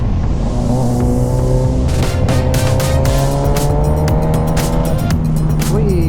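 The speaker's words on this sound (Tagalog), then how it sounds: "Warm up lang natin itong motor" A motor engine drones steadily, its pitch rising and falling as it revs, with rapid rattling bursts and a faint voice underneath.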